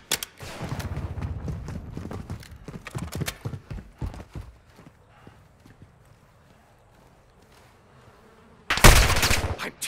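Gunfire in a close shooter video game match: a dense run of sharp shots and clatter over the first few seconds, scattered pops after, then a loud burst right at the end.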